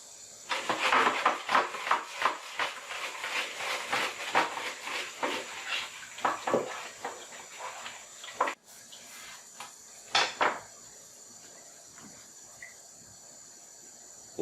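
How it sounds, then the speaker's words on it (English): Hot tap water runs and splashes over a coffee machine's drip tray grill during rinsing, with soft clatters of the plastic part, then several quieter pauses and a few isolated knocks and splashes. "Clean the dirt train grill under hot water."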